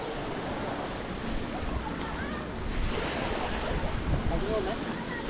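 Ocean waves roll onto the white-sand beach at Kai Bae on Koh Chang, Trat, in winter, a steady wash of surf mixed with gusty wind rumble on the microphone.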